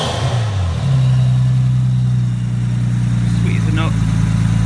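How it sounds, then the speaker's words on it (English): A 1990s-era R33 Nissan Skyline's RB25 straight-six starts and settles into a steady, loud idle with a deep constant hum, close to the mic; a voice briefly speaks over it near the end. "Right, that's the engine running. Give you an idea what it sounds like."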